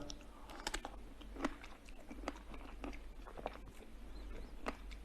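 Someone bites into and chews a strawberry up close, giving a run of soft crunchy bites and moist chewing clicks spread irregularly over a few seconds.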